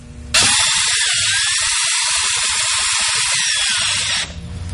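Power drill cutting threads with a combined Drill N' Tap bit, one loud high whirring run of about four seconds that starts and stops sharply, heard close and alone.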